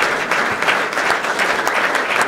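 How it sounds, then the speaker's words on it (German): An audience applauds at a German award event for a young businesswoman, a dense, continuous burst of clapping from a crowd filling the room. "Ganz, ganz toll, also ihr Applaus."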